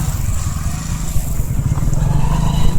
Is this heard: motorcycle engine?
yes